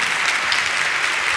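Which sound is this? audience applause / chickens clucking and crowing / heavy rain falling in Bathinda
audience applause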